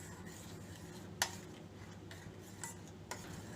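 Tea powder and sugar being stirred into simmering tea, a spoon clinking faintly against the pot a few times over a low steady background.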